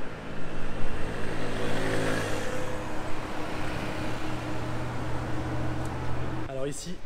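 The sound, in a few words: Audi RS6R ABT car arriving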